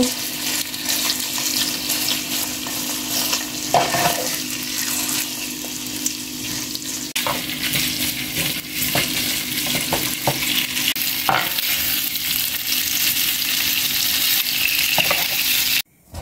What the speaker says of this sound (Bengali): দিয়ে দিচ্ছি চিকেনটা দেওয়ার পরে আমি চুলার জালটা মিডিয়াম করে দেবো। চিকেনটা অনবরত নেড়ে চেড়ে নেব।